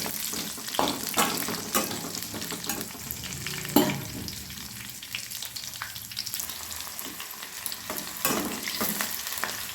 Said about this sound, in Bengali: এবারে ওই তেলে কাঁচা লঙ্কা, পেঁয়াজ, আদা, রসুন ভেজে নেব, লাল লাল করে ভেজে নেব।